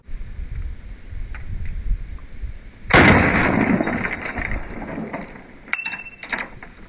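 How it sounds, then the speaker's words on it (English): Gunfire aimed at a Honda Civic being wrecked alongside a backhoe, with one loud close shot cracking out and ringing into a long decaying wash over steady background noise, followed by a fainter pop near the end. "Shoot the lights out on the back seat."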